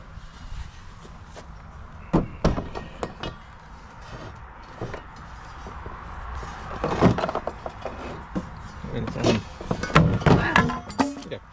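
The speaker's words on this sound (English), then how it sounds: "And everything fell down." Wooden boards from a propane tank transporter rack tumbling down, a string of hollow thunks and clattering knocks of varying loudness, close by, with scattered bumps throughout.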